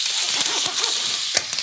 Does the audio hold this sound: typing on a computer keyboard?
no